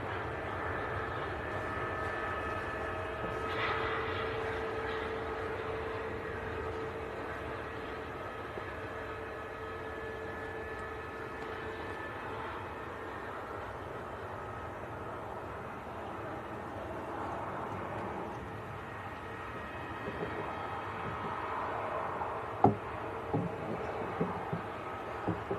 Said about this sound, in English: Couple of aircrafts coming out for departure, Jet2 and the Ryanair.